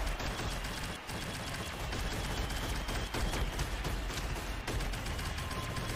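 Rapid gunfire from the Pazuzu weapon in the Shadowgun Legends shooter game, a dense, continuous, loud stream of shots blending into a steady roar for the whole stretch, with no talking.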